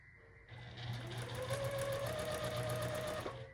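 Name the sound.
sewing machine stitching a quilted block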